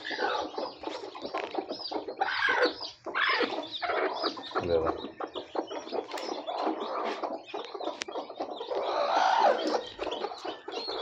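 Many free-range desi chicken chicks, around 70–80, chirp continuously in a busy, high-pitched chorus, close by, with occasional louder peeps rising above the crowd.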